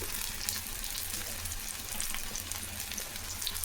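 Onions and fennel seeds sauté in a pan with a soft, even crackling sizzle, faint and steady throughout.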